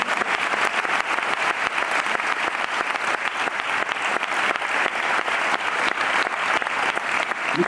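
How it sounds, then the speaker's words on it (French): Dense, sustained audience applause at the opening ceremony of a TV fiction festival in La Rochelle, loud and steady throughout with no gaps. "Applaudissez-le."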